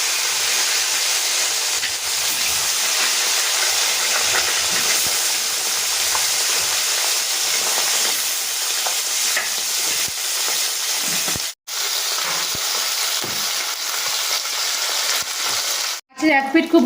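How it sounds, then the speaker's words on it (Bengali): Parshe and bata fish fry in hot oil in a wok, giving a loud, continuous bubbling hiss that drops out briefly twice before resuming. "তেলটা গরম হয়ে গেছে, এবার আমি মাছগুলোকে ভেজে নেব।"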